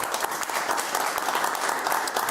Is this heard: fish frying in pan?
no